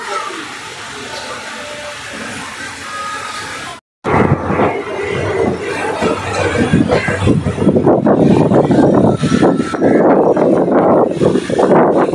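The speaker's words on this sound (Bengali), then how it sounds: "ট্রেন ছেড়ে দিয়েছে আমবাড়ি ফালাকাটা থেকে" A local passenger train pulls out of Ambari Falakata station, a steady loud rumble and rattle of wheels and carriages building after a brief cut, heard from on board with no clear talk.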